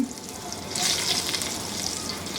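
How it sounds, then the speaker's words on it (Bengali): Loud, close sizzling of eggplant shallow frying in hot oil in a kadai, a dense continuous crackle that swells partway through. "আমি একটা কড়াইয়ে কিছু তেল গরম করে বেগুনগুলা দিয়ে ভেজে নিব"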